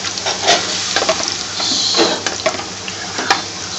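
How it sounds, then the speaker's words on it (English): Potatoes sizzle and crackle steadily in a frying pan with garlic while a utensil scrapes and stirs through them, with occasional clinks, close by. "So stir it nice and gently, stir the frying pan"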